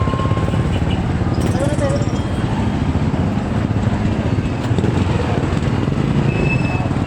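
A motorized tricycle carries a passenger from a tricycle queue toward Payatas in the Philippines, its engine making a steady, dense rumble throughout, with faint voices in the background.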